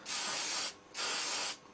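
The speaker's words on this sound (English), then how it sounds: "So you just spray on a bit of oil, doesn't take a lot." Two sustained hissing bursts of air tool oil sprayed from an aerosol can onto an MDF honing board, each lasting over half a second with a short pause between, loud and close.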